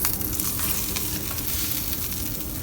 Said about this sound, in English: More oil. Because we're frying it, basically.